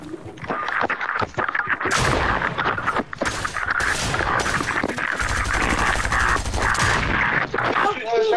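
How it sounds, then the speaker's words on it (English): Shotgun blasts in the video game Fortnite, a run of loud sharp bursts going off in quick succession, with voices talking over the gunfire. "You shoot with a shotgun, Bubble."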